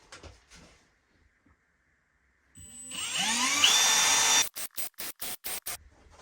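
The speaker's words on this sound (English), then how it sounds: "I'm going to go ahead and drill the rest of these now." A short burst of a whining power drill boring through material, followed by several quick, sharp bursts as the trigger is pulsed.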